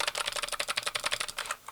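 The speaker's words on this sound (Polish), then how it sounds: "te klawisze, mimo że są postawione na niebieskich przełącznikach, klikających, ok, brzmienie też nie jest idealne, ale jest to charakterystyczne kliknięcie" Rapid typing on a Dragon Horus gaming keyboard with clicky blue mechanical switches, a quick close-up run of sharp clacky keystrokes that stops abruptly, followed by one last tap.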